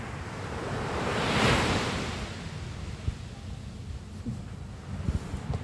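Strong ocean waves breaking on a white-sand beach, a broad roaring surge that swells and fades, with wind buffeting the microphone and faint thumps, loud and continuous with no talk.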